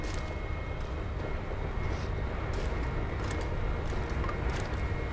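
Steady, loud helicopter rotor and engine drone from the video game Chernobylite, a dense broadband roar that holds constant throughout with no voices over it.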